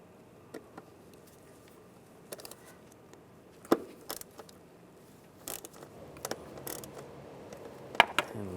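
A tool with a tamper-proof star bit unscrews the screws on a 1998-2010 Volkswagen Beetle mass airflow sensor, giving sparse close-up ratcheting clicks and metallic scrapes that grow busier toward the end.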